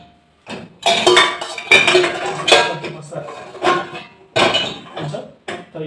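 Ceramic plates and dishes clink and clatter as they are loaded into a dishwasher in Nepal, several loud, close knocks spaced irregularly with short quiet gaps between them.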